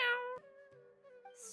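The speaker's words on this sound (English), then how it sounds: "Your cats seem pretty worked up." Cats meow in a video game, several drawn-out, tonal cries overlapping one another, fairly faint, with a brief hiss-like burst at the very end and no talking.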